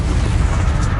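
A quick blast of an Incendio fire spell in Hogwarts Legacy, a loud, dense whooshing boom that fills the short moment, rumbling low with a brief brighter flare near the end.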